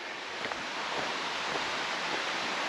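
Creek water cascades down rocky steps along a forest loop, a continuous broadband rushing hiss, steady and fairly close, with no voices.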